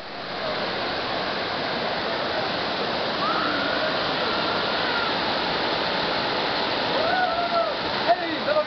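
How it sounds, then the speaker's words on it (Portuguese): Cachoeira do Engano waterfall roars in a dense, continuous rush of falling water, loud and close throughout, with faint voices and brief calls now and then beneath the torrent. "Cachoeira do Engano."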